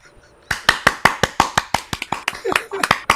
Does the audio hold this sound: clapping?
yes